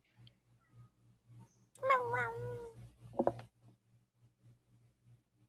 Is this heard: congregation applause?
no